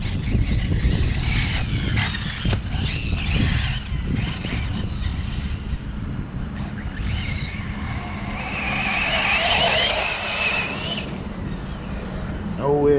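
A Losi 8ight-E electric RC buggy running on new LiPo batteries, its motor whining and surging in bursts under a voice, with rattling knocks of the buggy over the ground.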